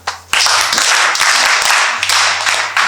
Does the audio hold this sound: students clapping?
yes